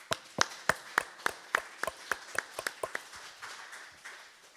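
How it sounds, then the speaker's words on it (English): Clapping at a Sunday church service rises near the listener as a steady, evenly spaced run of sharp hand claps, fading toward the end. "Let's give them all a big round of applause."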